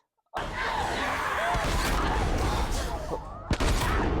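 Gunfire in a scene from The Last of Us TV series: a sustained loud, noisy barrage with cracking shots and a sharp bang near the end, with voices mixed in.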